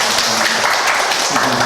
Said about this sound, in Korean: 박수로 축복합시다.